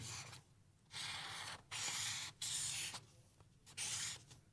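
Squeaky marker strokes on paper in several bursts, each about a second long, separated by short pauses, close and fairly loud.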